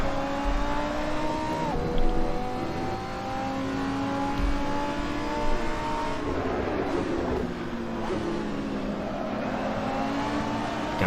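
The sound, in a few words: GT3 race car engines at Mugello in Assetto Corsa video game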